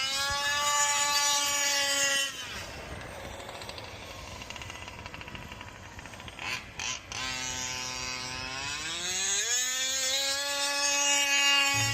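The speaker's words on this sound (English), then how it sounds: "The sound of a 2-stroke engine is kind of obnoxious, unless it's yours" A 2-stroke engine RC car runs on a dirt track. Its high, buzzing whine holds steady, drops into a rough rattling idle for several seconds, then revs back up, rising in pitch as the car accelerates.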